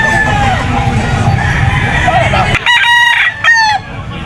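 An AA Cobra gamefowl rooster crows at the Grotto pet market, loud and close, with a ringing harmonic call rising over busy background noise and clucking, then repeated bursts near the end.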